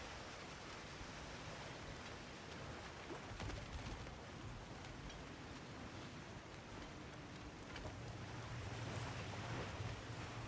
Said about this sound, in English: Water rushing above us, to be clear.